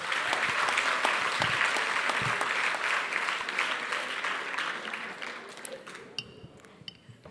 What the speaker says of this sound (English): all regions, all commissioners, a big round of applause.